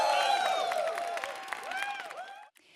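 Studio crowd of esports fans cheering and applauding on opening day of a European League of Legends championship, a loud wash of claps and cheers with music tones over it that fades away at the end.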